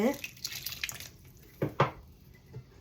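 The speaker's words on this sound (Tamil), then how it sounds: "இப்படி பச்சை தண்ணி இப்படி தெளித்து" Water sprinkled in a few quick splashes over a country chicken curry cooking on a stove, with two distinct spatters standing out near the end over faint background clatter.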